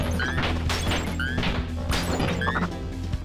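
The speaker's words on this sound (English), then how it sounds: "Sounds like a glass breaking sound effect from one of the TMNT games" Glass shattering in the Death Road to Canada video game: a few sharp crashes and breaking bursts at a moderate level over a steady busy game background, with no talk.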